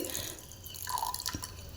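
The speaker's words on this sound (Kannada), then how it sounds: "ಬೇಯಿಸ್ಕೊಳ್ಳೋಕ್ಕೆ ನೀರು ಹಾಕ್ಕೊತಾ ಇದ್ದೀನಿ ನಾನು ಇಲ್ಲಿ" Water is poured over soaked chickpeas in a pot to boil them, making short, close splashes and drips in a quiet kitchen.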